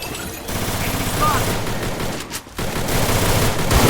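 Rapid gunfire from the Free Fire battle royale game, a dense sustained fusillade of shots running almost the whole time with a brief dip, loud and close, with game noise mixed in.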